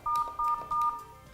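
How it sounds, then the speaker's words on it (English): A Polycom desk phone sounding DTMF tones as the star button is pressed three times, three short, even beeps in quick succession, quiet and alone. "Hit the star button 3 times to park the call."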